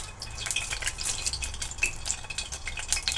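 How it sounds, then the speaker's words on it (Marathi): Whole spices such as cinnamon pieces and bay leaf go into hot oil in a pan for egg masala, crackling and sizzling softly in quick irregular pops, close and faint, with no voices. "तेल चांगलं गरम झालं की आपण खडे मसाले टाकून घेणार आहोत"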